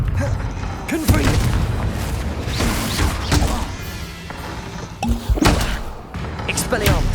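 In the Hogwarts Legacy video game, the Confringo fire spell goes off in loud booming blasts, one near the start and another later, amid thuds and mechanical clatter with voices speaking over the action.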